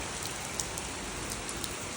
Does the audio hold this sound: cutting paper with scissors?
no